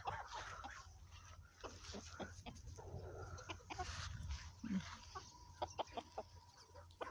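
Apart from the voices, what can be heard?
chickens clucking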